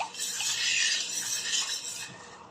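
A corn dish (maja mais) being stirred and mixed in a pot, giving a continuous scraping, swishing rub of utensil against the pot, close and steady with no talk.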